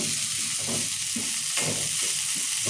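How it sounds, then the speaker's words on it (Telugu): Ingredients for ponganalu batter fry in a pan with a continuous hiss and sizzle, close up, with soft rhythmic stirring scrapes and no talk. "వేయించుకోవాలి బాగా"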